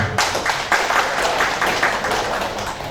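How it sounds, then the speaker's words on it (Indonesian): Applause from an audience at a DPD LIPAN Kalimantan Timur organisational gathering, a dense, steady patter of many hands clapping continuously at close range for the whole span. "Kita beri tepuk tangan untuk kita semua."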